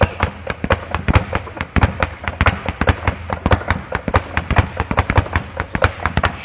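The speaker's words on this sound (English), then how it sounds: "Fist hits the bag, 1, 2, and comes back." Rapid, sharp thuds of boxing fists striking a punching bag in quick irregular bursts, loud and close, with no talking.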